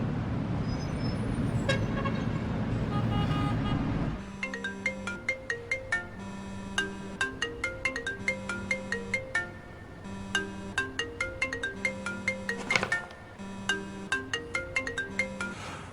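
A mobile phone ringtone for an unanswered call starts after a few seconds of rumbling road noise and plays a bright, repeating electronic melody in a steady loop until the end.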